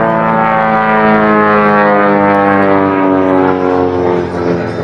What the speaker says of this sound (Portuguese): Tem que trabalhar todo o tempo esse motor.